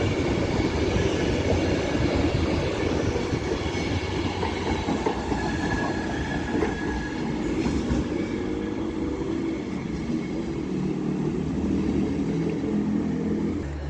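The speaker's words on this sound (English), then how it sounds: "now coming in is the 1601 not Avanti West Coast, cross-country service to Birmingham New Street" A Cross Country train rolls into Stafford station on the West Coast Main Line, a loud, steady rumble of wheels and rail noise with faint squeals, close by and continuous throughout.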